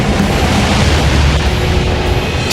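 The Krakatoa volcanic eruption blast is rendered as a dense, sustained booming roar, loud and unbroken throughout, heavy in the low end with no talking over it.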